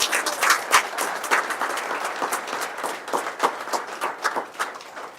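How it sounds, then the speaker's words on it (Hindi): Sustained audience applause fills a live presentation hall, dense overlapping clapping with a few sharper nearby claps rising and falling for about five seconds. "बनाओ अपने लिए एक बार जबरदस्त तालियां"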